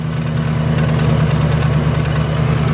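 A Cobra car engine idles steadily up close, a low even hum with a faint, rapid rattling ticking from the crank pulley running underneath.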